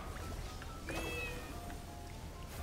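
Cartoonish cat meow in a Roblox video game, a single short high-pitched call near the middle, heard over a steady low background hum of game sound.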